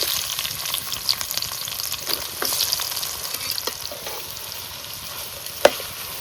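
Thinly sliced onion fries in hot oil with cloves, cinnamon, black pepper, star anise, bay leaf and cardamom, giving a close, continuous crackling sizzle with scattered stirring clicks and one sharp knock; no talk.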